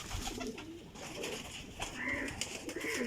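Pigeons coo softly and repeatedly nearby, several birds overlapping in low throaty warbles against a busy background of rustling and ambient noise.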